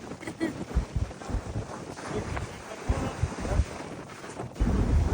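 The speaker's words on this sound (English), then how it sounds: "It's getting crazy out there." Strong gusts of wind buffet the microphone in loud, uneven rushes outdoors at a HYROX race in Brisbane, with water sloshing and voices partly audible underneath.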